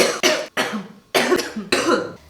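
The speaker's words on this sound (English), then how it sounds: "Sav has a bit of a cough" A young woman coughs repeatedly, four or five harsh, close bursts separated by short pauses, with a hint of throat clearing and no talking.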